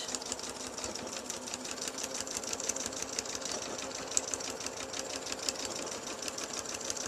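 A sewing machine runs steadily while sewing a back stitch, its needle hammering in a fast, even mechanical patter that continues evenly throughout, moderately quiet, with no talking.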